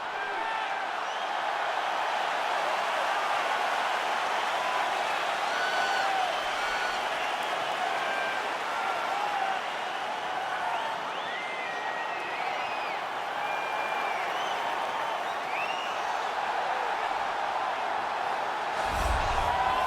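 Sold-out arena crowd at a UFC flyweight title fight in EA Sports UFC 4, a continuous roar of cheering and applause with whistles, steady and loud throughout the whole stretch.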